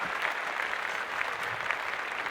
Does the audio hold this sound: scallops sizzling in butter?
no